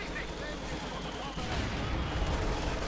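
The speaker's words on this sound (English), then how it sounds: "Mortars continue to make a mess of things there for the Germans." Mortar fire in the Company of Heroes 2 strategy game sounds as a dense rumble of distant explosions that grows louder partway through, under a busy battlefield soundscape.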